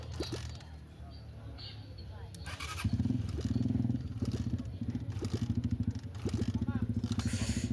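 A 2019 Bull Qipai motorcycle under restoration cranks with clattering and scraping, then its engine catches and runs with a rough, pulsing idle, close by, while people talk in the background.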